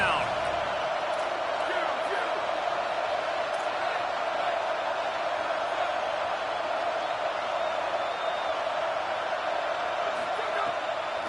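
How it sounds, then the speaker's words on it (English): A football stadium crowd roaring on third down: a dense, continuous wall of crowd noise with a broadcast commentator speaking over it throughout. "This dog crowd is off the leash, and they are coming after them, bringing noise on third down."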